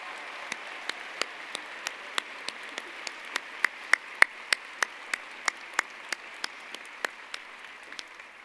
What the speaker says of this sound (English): You may now applaud and thank all of them.